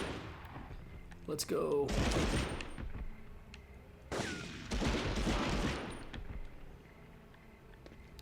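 Two loud bursts of SMG fire in a PS1 video game, each lasting about a second and separated by a short gap, with a man's brief spoken remark before the first.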